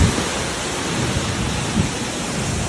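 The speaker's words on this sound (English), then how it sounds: "Decent hail there. Decent winds. Sheets of rain." A severe storm with hail, strong winds and sheets of heavy rain on the east side of Aurora makes a dense, continuous roar. Occasional low rumbles rise through the steady wash, and no voices are heard.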